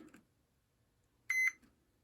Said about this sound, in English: It's never a bad idea to check for continuity as you go.